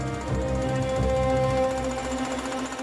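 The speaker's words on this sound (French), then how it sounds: "les carabiniers démolissent consciencieusement, à coups de marteau-piqueur, une cuisine entière" A jackhammer pounds steadily through a kitchen under demolition, its dense, rapid hammering continuous and loud throughout with no pauses.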